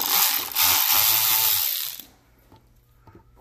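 A T20 Torx driver ratchets loudly in short clicking bursts for about two seconds while undoing screws on a fuel injector control module cover, then stops, leaving faint handling noises.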